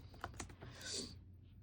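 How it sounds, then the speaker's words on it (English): Quick run of computer keyboard keystrokes as a Google search is typed, a short burst of close clicks lasting about a second before trailing off into quiet room tone. "I'm gonna Google type art styles."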